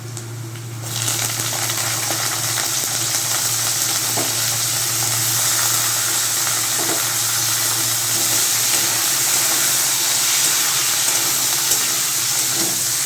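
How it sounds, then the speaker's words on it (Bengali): Bitter gourd pieces fry in a pan of oil with onions and panch phoron, producing a loud, continuous sizzle with occasional faint stirring clicks. "দিয়ে একটু করলাটাকে ভেজে নেব"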